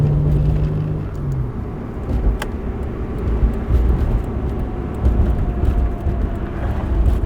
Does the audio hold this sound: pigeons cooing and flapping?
no